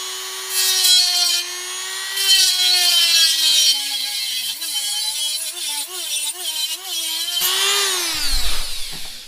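A Dremel rotary tool with a small cutoff wheel cutting into a plastic cold air intake part for a Cobalt: a loud, close, high-pitched whine that dips and wavers under load for several seconds, then winds down.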